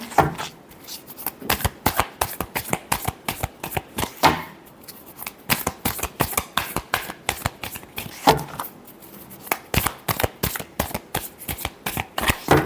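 Tarot cards shuffled by hand in rapid, crisp riffling bursts, repeated many times with brief pauses between, close and fairly loud with no talking.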